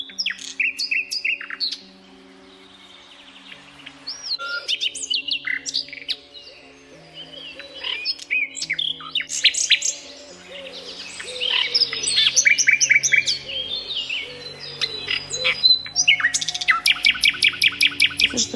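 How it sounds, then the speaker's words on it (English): Several birds singing and chirping, with bursts of sharp tweets and trills separated by brief lulls, growing busier and louder toward the end, with a low hum and no speech beneath. "Birds all around the world are singing my name."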